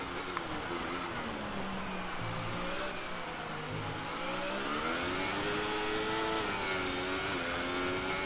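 Formula 1 race cars in the F1 2018 video game at the Monza circuit rev loudly and continuously, engine pitch rising and falling through gear changes as several cars whine past.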